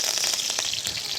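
Cinnamon, fennel seeds and cloves sizzle steadily in hot oil for quail gravy, a loud, continuous close frying hiss with faint crackles throughout, no talking.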